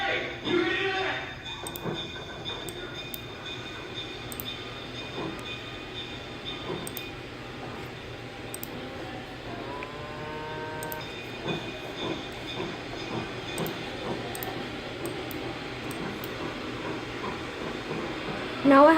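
A train rumbles steadily along the rails with hissing and faint rhythmic clicks, while voices talk over it.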